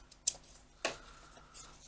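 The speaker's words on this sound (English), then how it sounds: "Use a decent pair of scissors because it's quite thick" Two sharp snips of scissors cutting through thick fabric, close by and fairly quiet, with a faint rustle afterward.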